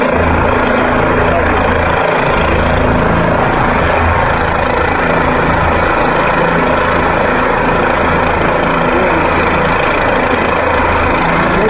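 A loud, constant helicopter rotor drone near Kedarnath fills the whole stretch, close and unbroken, with muffled voices faintly underneath.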